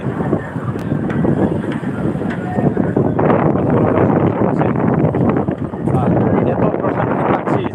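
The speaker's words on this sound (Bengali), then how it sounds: "দেখেন যে হাওড়ের দৃশ্যটা প্রচুর বাতাস" Strong wind sweeps across Nikli haor, a wetland in Kishoreganj, roaring and buffeting the microphone in loud, continuous gusts that never let up.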